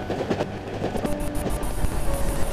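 Train riding on rails in the horror video game Cry of Fear, a steady loud rumble with rhythmic clicking wheel noise and a faint tonal hum throughout.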